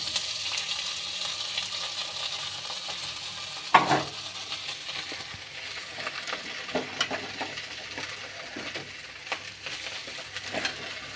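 Idli upma with onions frying in a pan, a soft continuous sizzle under scattered scraping and stirring clicks, one sharp knock early on, close and with no talk.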